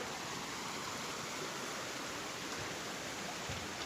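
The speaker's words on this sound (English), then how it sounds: "Here's the first view of Mosca Creek." Water of Mosca Creek flowing along a mountain trail, a constant close rushing hiss with no breaks.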